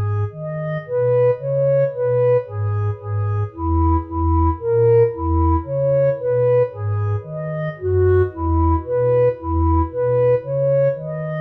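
Music transcribed from the score painted in a Hieronymus Bosch painting plays as a steady, simple melody of evenly paced tones, loud and clear with no talk over it.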